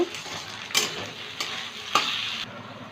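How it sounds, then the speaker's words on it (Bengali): Tomato and two green chilies fry in a hot pan, a continuous bright sizzle with a few sharp scraping stirs punctuating it at roughly regular intervals, close and loud with no voices. "দুটো কাঁচা লঙ্কা দিলাম এটা একটু ভেজে নেব"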